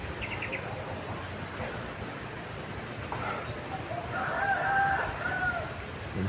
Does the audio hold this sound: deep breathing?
no